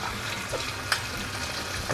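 Fermented beef ribs sizzle steadily in hot oil, a continuous crackling fry with one brief clink partway through.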